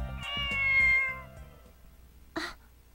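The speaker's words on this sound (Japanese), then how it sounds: "なんかムカつく猫だな。" A cat in the dating game Tokimeki Memorial 2 gives a drawn-out, clear meow that fades away, followed by a short soft squeak.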